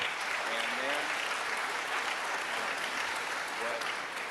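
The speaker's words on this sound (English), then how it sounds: "Jorena Di Pedro, please give her a round of applause." A city council chamber audience applauds after a sung performance: dense, sustained clapping from many people, loud and even throughout, with faint voices briefly audible beneath the applause.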